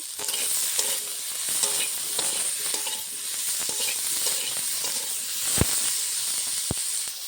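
Flat beans with a little turmeric frying in a pan for a Bengali fish, potato and aubergine dish, a steady close sizzle and hiss with occasional stirring clicks and scrapes.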